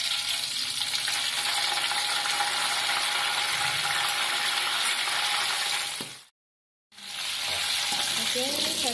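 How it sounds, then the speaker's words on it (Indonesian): Dried chilies sizzle and crackle in hot oil while making Aceh noodle spice paste, a loud steady frying hiss close by, broken by a short silence before the sizzling resumes. "sekarang kita goreng cabai kering"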